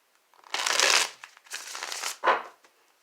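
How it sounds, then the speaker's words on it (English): Tarot cards are riffled and shuffled by hand in three quick bursts of papery flicking, close and clear with brief pauses between, nobody speaking over them. "One more shuffle."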